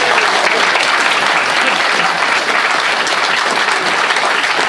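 Loud, dense applause from a political party conference audience in a hall in Worcester, a continuous roar of many hands clapping close and strong for the whole stretch.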